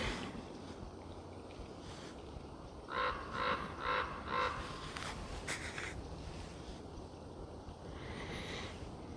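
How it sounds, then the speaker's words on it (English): Outdoors, a crow caws four times in a quick, evenly spaced series from a moderate distance over steady background noise, then falls quiet. "Got a crow listening in, saying his little part"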